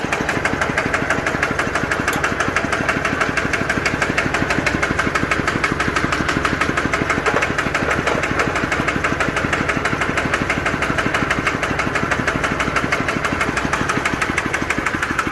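A Kawama 11 hp single-cylinder engine on a mini farm vehicle runs steadily close by, a loud rapid chugging idle with an even knocking rhythm throughout and no talk.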